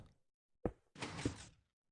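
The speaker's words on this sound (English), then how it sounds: "And now you see the door's closed." A Minecraft 2x2 piston door moves in the game. A sharp thunk is followed, after a short pause, by a half-second sliding hiss. The sounds are fairly quiet, with no talk.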